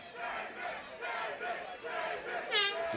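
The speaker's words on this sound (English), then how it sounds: "The crowd here trying to get behind Țydnău, trying to give him a little bit of motivation and inertia." A fight crowd at an FSC31 event roars and chants in rolling waves for a fighter, a sustained loud mass of voices with a sharp horn-like blast near the end.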